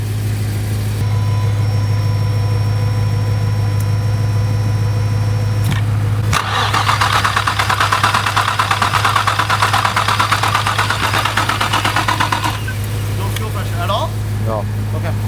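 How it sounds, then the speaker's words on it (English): A Nissan G35 with a big turbo cranks over while fuel is being primed, a steady mechanical hum followed by several seconds of loud, rapid, rattling turnover that stops abruptly. "I'm gonna crank it."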